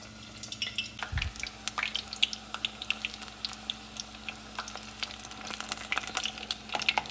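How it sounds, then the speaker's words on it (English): Tempura-battered squash blossoms crackle and sputter in hot frying oil, a steady scatter of sharp pops and sizzles at close range with no voices over it. "And tossing them into the oil."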